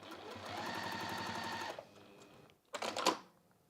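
A sewing machine stitches a handbag with a fast, even mechanical patter for under two seconds, stops, then gives a brief second burst with a few clicks, close and quiet.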